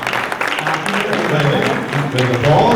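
Audience applause at an attainable housing summit panel, a steady wash of clapping that runs through the whole moment, swelling toward the end, with a voice talking over it.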